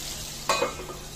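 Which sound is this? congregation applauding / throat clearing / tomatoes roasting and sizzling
tomatoes roasting and sizzling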